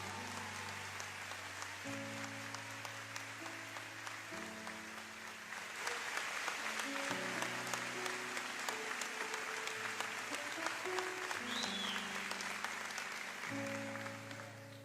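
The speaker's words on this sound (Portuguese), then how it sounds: "eu queria pedir uma salva de palmas para esses irmãos" An audience gives sustained applause to a team of volunteers at a faith gathering. The clapping is fairly faint, swells midway and carries on beneath music.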